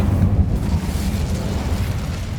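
Incendio fire spell cast in the video game Hogwarts Legacy, a loud, close, low rumbling burst of flame that roars steadily for a couple of seconds.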